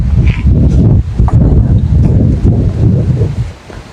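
Wind gusts outdoors near a mosque and rice fields, buffeting the microphone with loud, rumbling roars that surge and ease over a few seconds, with no speech.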